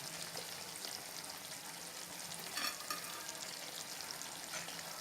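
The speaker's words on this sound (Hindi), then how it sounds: "और इसे एक बार अच्छे से मिक्स कर लेंगे।" Chicken changezi being mixed in a pan with green chilies and coriander, a faint continuous sizzle with a brief stirring scrape near the middle, with no one talking.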